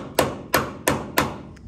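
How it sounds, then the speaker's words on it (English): Hammer blows drive a chisel into metal on an old K10 squarebody truck: four sharp, loud impacts land at an even, unhurried pace, each one ringing briefly before the next, close and alone. "So we're going to chisel and hammer it out"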